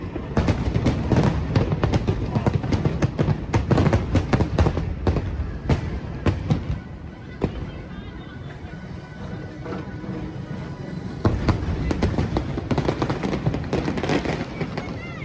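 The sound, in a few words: fireworks exploding at Disney World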